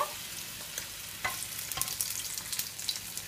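Chicken patties frying in a full skillet, a steady loud sizzle with scattered pops and crackles and no voices.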